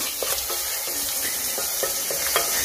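Chicken sautéing with spices in a pot as the base for vegetable soup: a loud, close sizzle with repeated scraping stirs at a quick, uneven rhythm, and no voices.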